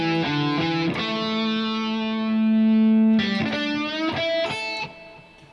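Distorted electric guitar plays a lick from a guitar solo: a few sustained, bent notes ring out loudly, with quick picked notes near the start and end.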